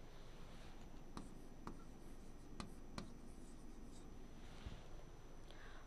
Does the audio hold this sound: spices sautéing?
no